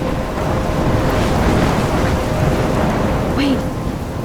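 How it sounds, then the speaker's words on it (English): Thunderstorm in the video game Life is Strange: steady heavy rain hiss with low rumbling thunder throughout, loud and continuous, with no talking. "I'm trapped in a storm?"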